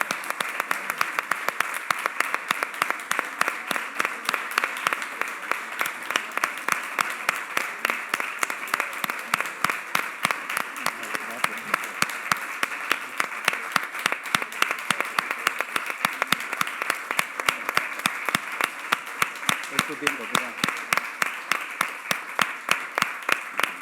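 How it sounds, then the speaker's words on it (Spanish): A seated audience at a book presentation claps in sustained, dense applause for over twenty seconds, an even rattle of many hands kept up at a steady level with faint voices underneath. "Creo que debemos empezar otra vez a aplaudir."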